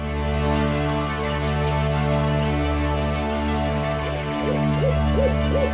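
An owl hoots in repeated soft calls near the end, set over a loud, steady tonal hum that runs throughout.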